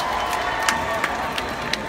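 Scattered clapping from a comedy-show crowd rises over a steady background murmur, with a handful of distinct nearby claps spaced out across the couple of seconds.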